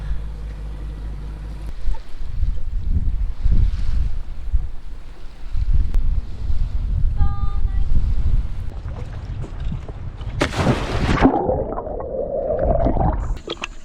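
A sailboat cruises through open water at about 5 knots. Wind buffets the microphone over the rushing hull wash, and a loud broadband burst of spray or gusting air rises near the end.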